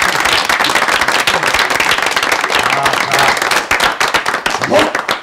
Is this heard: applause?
yes